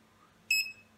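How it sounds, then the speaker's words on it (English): A single short electronic beep from an Arduino joystick arcade game, clear and high-pitched, sounds once against a quiet background. "every time I get a dot, I get a beep."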